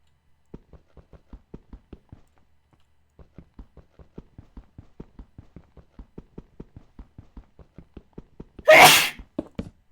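After a run of faint, regular ticking, one loud, sharp human sneeze bursts out near the end, close and brief, with no talking around it.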